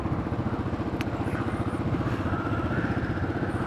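A motorcycle on the ride out to a coffee stop in the nearest town, its engine holding a steady, rapid throbbing drone up close with wind noise and no talking.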